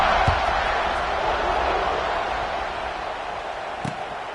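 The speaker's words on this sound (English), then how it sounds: "this crowd is buzzing after that last score" A football stadium crowd at a Marshall Thundering Herd game buzzes after a score, a steady broad roar of many voices with a couple of brief sharp knocks standing out.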